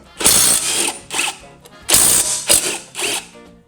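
Ratchet wrench loosening the blade bolts on the underside of a Honda HRN216 lawnmower deck: bursts of rapid, loud, close clicking in four separate runs with short pauses between them, no talking.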